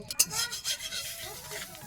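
Sesame seeds fried in a spoonful of ghee in a kadai (wok), stirred until reddish: a steady close scraping and rustling with soft sizzle and a few sharper clinks, no talk.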